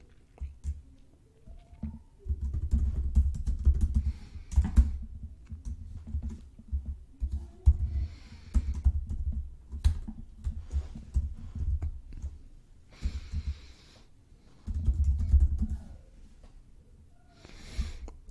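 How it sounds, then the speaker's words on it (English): Typing on a computer keyboard, soft clustered clicks coming in several bursts with pauses between them, close and fairly quiet. "So let's just type out some headlines."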